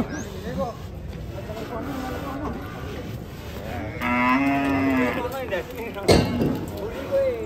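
Several deep, drawn-out cow moos from close by, one long and loud, over outdoor background noise and murmuring voices.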